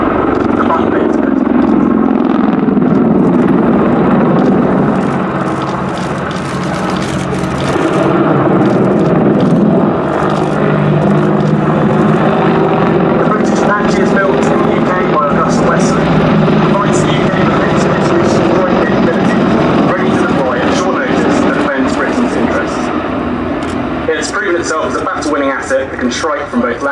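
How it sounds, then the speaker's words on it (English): A pair of Apache attack helicopters fly a bunt manoeuvre over the centre of an airfield at a VE Day anniversary airshow at Duxford, a loud, continuous rotor and engine roar swelling and holding throughout, with a commentator talking over it. "The Apache pair will now perform a bunt in the centre of the airfield."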